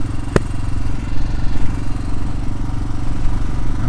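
A Yamaha Ténéré motorcycle engine idles steadily up close, a continuous low rumble with a brief click near the start and no talk.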